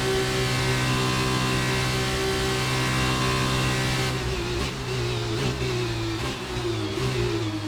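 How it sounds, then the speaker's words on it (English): A Formula 2 race car in the F1 2019 video game, on the Baku street circuit, accelerates out of a corner, its engine a loud, steady high-pitched whine that climbs and shifts through gear changes. "I'm accelerating out a little bit faster than the orange car that we are riding with"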